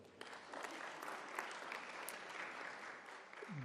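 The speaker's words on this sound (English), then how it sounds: "Let's give another hand of applause." An audience applauds at a Casual Day 30th celebration and launch event, a steady wash of many hands clapping throughout, with a brief voice at the very end.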